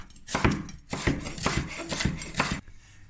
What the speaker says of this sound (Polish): Teraz pokroimy cebulkę w piórka.